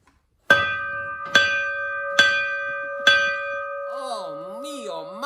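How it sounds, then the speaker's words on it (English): Four loud metallic clangs of a fire gong ringing in a firehouse at an even pace, each tone sustaining and fading, followed by a warbling wavering tone. "Clang, clang went the loud ringing noise of the fire gong in the big firehouse"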